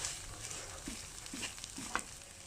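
Ingredients with shrimp paste and nuts or beans stir-fry over medium heat for a canned-fish chili dip, giving a quiet, steady sizzle with a few soft scrapes of stirring.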